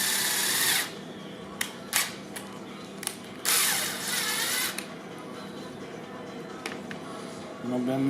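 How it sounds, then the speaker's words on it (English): A power drill whirs in short bursts, starting and stopping several times up close, drilling through a strap on a 2010 Subaru Forester, with a mechanical grinding hum and a voice speaking briefly. "And I'll drill through there."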